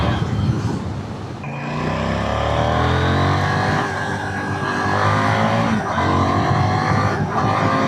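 A KTM 990 Duke R motorcycle engine revs and growls loudly up close, the pitch climbing through several rising sweeps with brief dips between.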